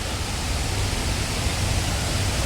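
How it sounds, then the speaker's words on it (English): Water pouring into the 9/11 Memorial pool, a huge manmade waterfall, as a steady, loud broadband rush that fills the whole clip with no talk. "this is how the water is flowing in through the pool, the massive pool that I've just shown you."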